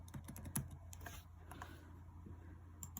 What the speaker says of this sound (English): type in the words intro bloopers